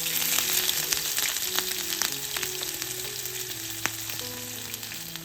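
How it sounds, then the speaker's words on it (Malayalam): Mustard seeds and finely chopped shallots frying in hot oil for a Kerala tomato curry, a close, continuous sizzle with sharp pops and crackles throughout. "ഉള്ളിയെ ചെറുതായൊന്ന് മൂപ്പിച്ചെടുക്കുക."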